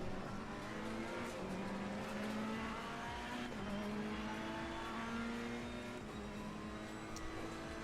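A Ferrari GT race car in the racing game Assetto Corsa Competizione drives at steady speed, its engine droning continuously with shifting whining tones, other cars faintly around, no talking.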